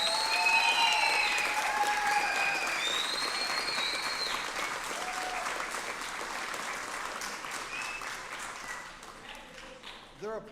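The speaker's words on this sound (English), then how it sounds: "They're applauding for you because you didn't give up." An audience at a school board meeting applauds high school students, steady clapping filling the room and slowly tapering off, with a few voices and cheers mixed in.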